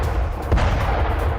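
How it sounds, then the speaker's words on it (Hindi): A missile strike on Konarak, Iran, heard as a deep, heavy rumble with one sharper blast partway through, booming and distant-sounding. "आपको धमाकों की आवाज सुनाई दे रही होगी। एक के बाद एक धमाके"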